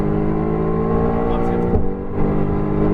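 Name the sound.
Mercedes AMG GTR accelerating at full throttle on track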